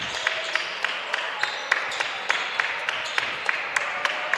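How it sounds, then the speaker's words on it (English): Crowd at a high school boys' varsity basketball game clapping in a steady, evenly spaced rhythm, roughly three claps a second, over a continuous hiss of arena noise and shoe squeaks. "There's a lot of clapping here."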